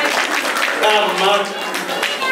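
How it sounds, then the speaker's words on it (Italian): Warm applause from an audience at a carnival-themed magic show, a steady dense patter of clapping that swells slightly and holds throughout at a fairly loud level. "che applauso caloroso"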